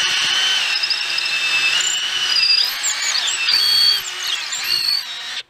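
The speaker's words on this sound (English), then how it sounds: "So there it is. There's a hole drilled." A power drill bores a hole through a wood block clamped in a vise, its steady high whine running close and loud for about five seconds, with the pitch wavering as the bit bites, before cutting off abruptly.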